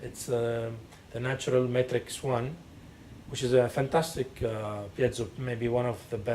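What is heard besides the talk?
None of the usual background noises is heard.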